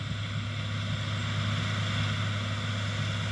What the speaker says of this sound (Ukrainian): Оце як працює машина Одеська коротко.